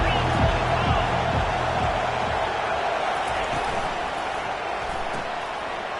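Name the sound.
football stadium crowd cheering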